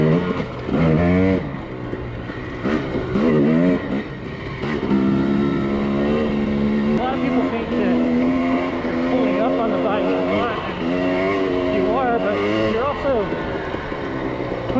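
A dirt bike engine revs and bogs as it rides a snowy trail through huge drifts in Idaho, rising and falling in pitch, loud and close, with someone talking over it.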